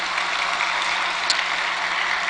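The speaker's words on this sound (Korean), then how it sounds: "우리 고등부 찬양단을 축복하는 박수를 한번 해주시고요" A church congregation applauds the high school worship team, a soft, even hiss of many distant hands clapping steadily, with a faint click standing out midway.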